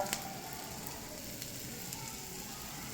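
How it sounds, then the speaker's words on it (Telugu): Onions, tomatoes and green chillies frying in oil in a pan over a medium flame give off a steady, quiet sizzle with faint crackles. There is no talk. "ఒక 2 minutes నీట్గా ఫ్రై చేయాలి"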